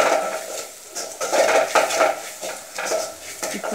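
A utensil scrapes and clinks in a pan while chili powder sautés in oil for a raw mango kulambu, close and fairly quiet, in short repeated stirring strokes with no talking.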